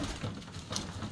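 Domestic pigeons at a pigeon fancier's loft coo softly, a faint low murmuring for just over a second with no talking.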